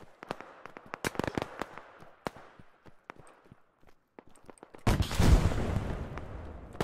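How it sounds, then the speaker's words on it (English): Game combat audio with sharp, repeated gunfire-like cracks and blasts in a military shooter, closing in a loud, heavy explosion roar that rumbles on for about two seconds; no speech. "Taking RPG fire here or something."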